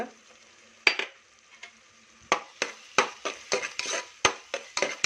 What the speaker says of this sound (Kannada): ಮಿಕ್ಸ್ ಮಾಡ್ಕೊಳ್ಳಿ